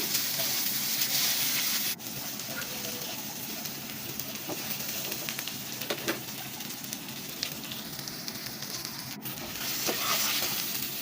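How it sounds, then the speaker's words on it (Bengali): Eggplant slices fry in hot oil in a wok, a constant crackling sizzle with occasional sharp clicks and scrapes as the pieces are turned over. "আমি বেগুনগুলো এখন উল্টিয়ে দিচ্ছি"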